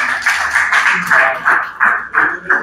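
An audience claps for members of a breeders' cooperative at a gathering, a near, fairly loud burst of hand claps in uneven pulses, with some voices in the room underneath.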